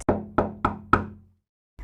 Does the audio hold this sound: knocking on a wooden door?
yes